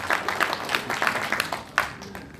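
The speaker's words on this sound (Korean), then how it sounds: "박수 부탁드리겠습니다." Brief applause at an Ansan football association award ceremony, scattered hand claps with a few sharper individual claps, fairly close and moderately loud.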